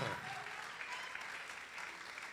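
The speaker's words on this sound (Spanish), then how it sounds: "dele ese aplauso fuerte al Señor" A church congregation applauds at a worship service during a sermon. Steady, even clapping from many hands sounds at low level and continues without pause.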